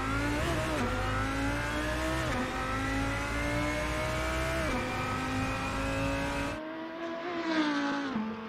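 A modded Lamborghini Huracan in the racing game Assetto Corsa holds a loud, rich engine note that climbs through revs with brief shift dips. It cuts off sharply near the end and then swells again.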